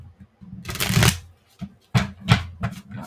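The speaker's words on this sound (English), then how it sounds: "I'm shuffling the deck." A deck of cards being shuffled up close, with a long riffle burst followed by two shorter bursts and brief pauses between.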